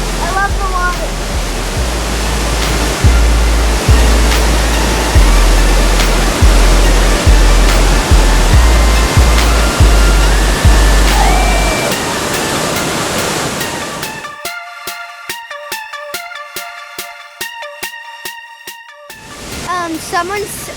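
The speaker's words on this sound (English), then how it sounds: "that waterfall is definitely my favorite. I love the water." A Lewis River waterfall roars as a steady, loud broadband rush of falling water for most of the span, with intermittent clicks and tones, then the water drops away near the end.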